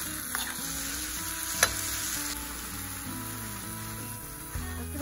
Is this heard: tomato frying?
yes